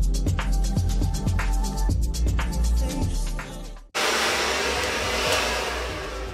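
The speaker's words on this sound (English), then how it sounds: "take a blow dryer and heat it up" A steady, loud blow dryer roars with a broad airy hiss, heating a paper hairpiece on a mannequin, following a short burst of clattering, busy sounds.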